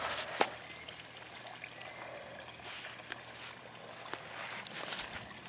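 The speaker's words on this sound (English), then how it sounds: "You can hear that water." Water flows and trickles at a homemade mini golf hole, a soft steady wash under a faint hum, with a few small knocks and taps along the way.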